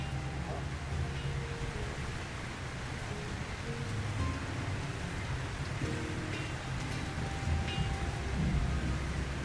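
Constant rain falling over a town in The Lord of the Rings: War in the North, a steady soft hiss of downpour with low rumbling underneath, with distant quiet voices and small game sounds mixed faintly in.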